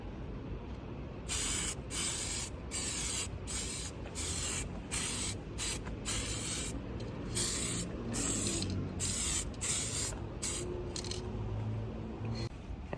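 Spray-on soundproofing coating applied inside the cab of a Toyota Land Cruiser 75 Series, heard as a steady hiss under a low background hum, broken into repeated rhythmic spray bursts of a second or so, close and clear.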